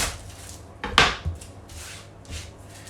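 A knife slices an onion in half on a board, one short crisp cut and thud against the wood, fairly close and quiet, with light handling noises after.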